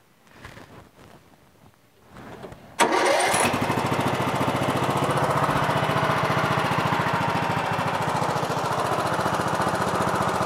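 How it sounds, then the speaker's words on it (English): A Briggs & Stratton Intek 20 HP engine on an MTD Yard Machines CVT lawn tractor cranks briefly, catches and settles into a loud, steady, close running drone that continues without a break. "Engine runs great."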